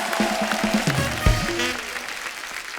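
Studio audience applause on a TV comedy show, a steady wash of clapping at moderate volume lasting a few seconds, with some voices and musical tones mixed in at the start.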